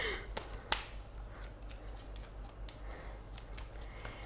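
Tarot cards being shuffled by hand give soft, quiet riffling taps and flicks in an irregular rhythm, close by in a hushed room.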